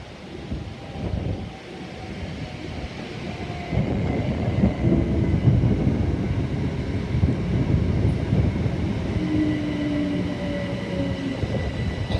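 A train pulls into Cambridge North station, with low rumbling and rolling noise that builds and then holds steady. Faint brake squeals rise over it near the end, and no one speaks.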